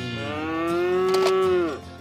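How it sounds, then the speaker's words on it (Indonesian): A toy water buffalo, the kind used for plowing rice fields, gives one long, loud, drawn-out moo that rises, holds steady and fades after about a second and a half, with no voices. "ada kerbau yang biasa bajak sawah"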